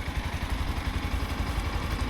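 A motorcycle engine runs steadily at low revs, loud and close, with a rough, pulsing rumble and a constant wash of road and wind noise, riding in the mountains of Vietnam.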